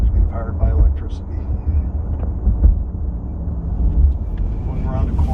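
A Porsche Taycan Turbo S electric car drives along, a low road rumble and faint motor whine inside the cabin, with someone talking over it throughout.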